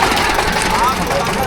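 The engine of a mobile sugarcane juice vehicle runs with a low, steady idling rumble beneath nearby talking.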